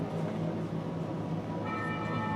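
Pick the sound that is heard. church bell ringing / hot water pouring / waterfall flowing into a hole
church bell ringing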